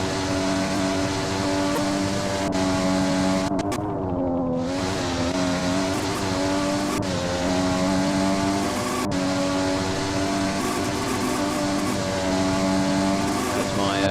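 Race car engine from a Formula Ultimate sim racing game in a pre-season test, a steady loud drone with shifting pitch as the car is thrown through corners, with commentators talking over it throughout.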